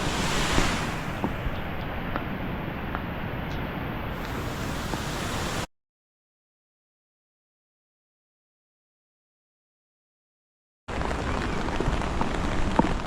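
Jogni waterfall near Manali in Himachal Pradesh roaring up close, a dense steady rush of falling water with wind buffeting the microphone, cut by a stretch of silence before the roar returns.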